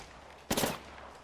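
A single sharp gunshot from the Apex Legends video game, loud and close with a brief ringing tail over steady game background noise.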